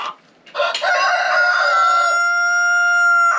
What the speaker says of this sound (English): Got some good looking roosters here.